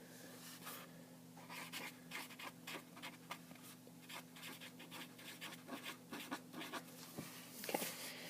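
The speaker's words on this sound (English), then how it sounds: "Let me just write that down." Pen on paper: quiet, irregular scratching strokes of handwriting go on for several seconds over a faint steady electrical hum, with no one speaking.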